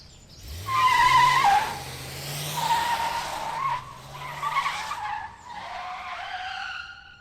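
A car drives and skids, its tires squealing in several long, loud, wavering screeches over a low engine rumble, with no voices.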